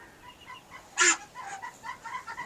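Ducklings and grown ducks kept together in a small room on a duck farm give off a run of short, chirpy calls, with one loud, sharp cry standing out above the rest. No one speaks.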